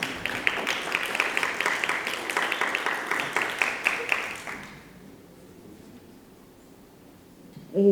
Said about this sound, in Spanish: recibámosla por favor con un aplauso